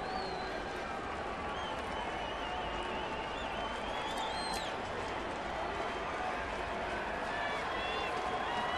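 Steady roar of a packed baseball stadium crowd, 45,000 plus at the Detroit Tigers home opener against the New York Yankees, a dense continuous murmur with faint cheering throughout, no talk on top.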